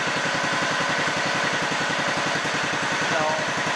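A 61-year-old, largely original engine on a 1959 Sears David Bradley garden tractor runs at a steady, rapid chugging idle, its even pulses close and constant for the whole stretch.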